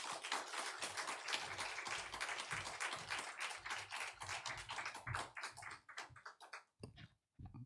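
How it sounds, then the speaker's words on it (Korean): A church congregation claps to welcome a missionary serving in India, with dense, lively applause going on throughout and thinning into a few scattered claps near the end. "우리 뜨거운 박수로 우리 환영하도록 하겠습니다"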